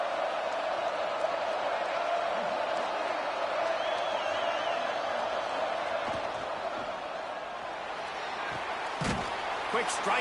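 Stadium crowd at a Miami vs FSU college football game, a loud steady roar that holds for the whole stretch, with a few sharp thumps and slams near the end.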